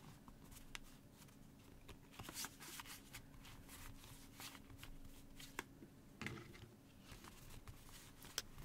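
Cards are shuffled and tapped in a quiet ASMR setting, a soft, continuous riffling patter with small sharp taps scattered through, close and gentle with no voice.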